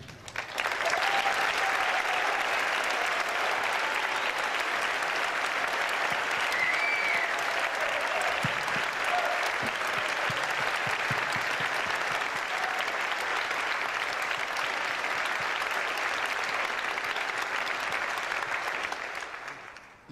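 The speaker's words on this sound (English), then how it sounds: "we would like for you to stand, if you would, so we could give you a round of applause" Sustained audience applause honoring standing veterans at a two-piano concert, a thick, even wash of clapping that fills the hall for about twenty seconds before tapering off at the end.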